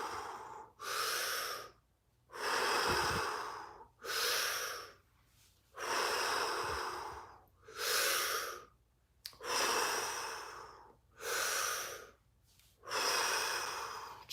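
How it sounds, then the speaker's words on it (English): Deep rhythmic breaths during a guided breathwork meditation, about ten long inhale and exhale cycles with brief pauses between them, close and clear with no talking. "Breathing in and out."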